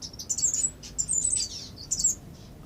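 Finches and waxbills in a covered aviary give bright, high chirps in short clustered bursts, fairly close and clear over quiet background.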